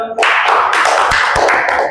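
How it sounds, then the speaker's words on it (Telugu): A classroom of students claps together for a classmate who did well on an exam, a dense, steady burst of many hands that starts abruptly and keeps going at an even level throughout. "క్లాప్స్ చూడండి అందరూ"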